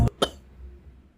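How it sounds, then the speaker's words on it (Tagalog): Two short, sharp coughs in quick succession, close by, followed by quiet. "Inuubo ako!"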